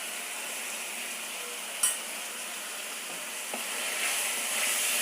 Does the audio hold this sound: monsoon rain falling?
no